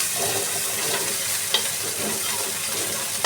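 Onion, garlic and ginger paste and crushed green chillies fry in a pan, giving a constant close sizzling hiss with occasional light scrapes and taps of stirring, no voices.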